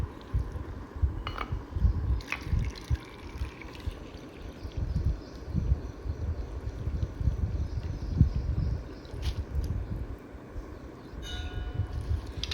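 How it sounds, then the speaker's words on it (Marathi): Water sloshes and splashes continuously up close, with occasional light knocks against a container, as sprouted moth beans are rinsed by hand in clean water. "मटकी स्वच्छ पाण्याने धुवून घ्यायची आहे"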